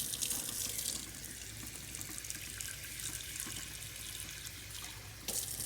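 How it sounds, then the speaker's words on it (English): Tap water running into a pan for caramel sauce, a steady close splashing stream that continues throughout and ends with a brief clatter, no talk. "I'm going to add a little bit of water."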